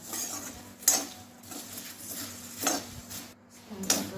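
Flattened rice dry roasting in a pan over a medium flame, a soft, quiet rustle broken by a few sharp clinks of a utensil against the pan.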